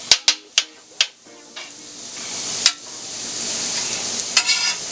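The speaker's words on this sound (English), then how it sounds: "put my onions to the middle and let them finish cooking. And we're going to put our sausage back here, chop it up." Sausage and onions being chopped and stirred on a Steelmade griddle, a few sharp scraping clicks of the spatula up front, then a steady close sizzle of frying food with another scrape near the end.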